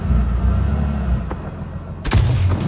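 In the video game World of Tanks Blitz, a heavy low rumble of tank engines, then a sudden loud tank cannon blast near the end, with a broadband crack and booming tail.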